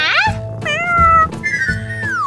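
A cat, or a voice imitating one, gives several drawn-out, rising and falling meows in a row, close and clear, with brief gaps between calls and no talk over them.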